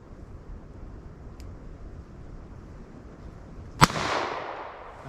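A single sharp gunshot from a .32 H&R Magnum revolver with a 4-inch barrel, loud crack followed by a brief rolling echo over faint outdoor background noise.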